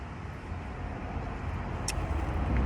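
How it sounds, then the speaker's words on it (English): Steady roadway noise from passing cars, a continuous loud broadband rumble that swells slightly toward the end, heard alone with no talking. "Cars driving by, it's loud."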